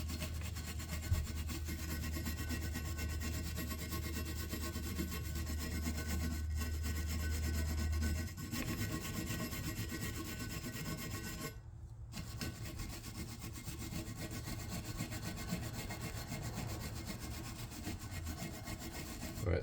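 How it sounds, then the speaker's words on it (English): Steady scraping of a metal wire brush scrubbing rust from brake parts on a GMC Envoy, continuous and close, with a brief pause midway before the rough rasping resumes. "Just using a metal wire brush."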